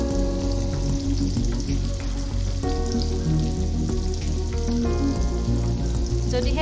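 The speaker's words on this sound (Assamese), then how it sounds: "পিঁয়াজখিনি আধা ভাজা হোৱালৈকে থ'ব।" Onions frying in a pan for a local chicken curry, a steady loud sizzle running throughout with faint stirring clatter and no talk.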